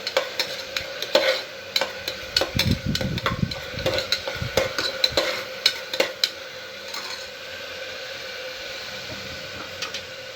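Ingredients for kadalebele masala sambar fry in a pan, with soft sizzling and scattered scraping stirs and clinks from a utensil, louder at first and then settling into a quieter, steady sizzle.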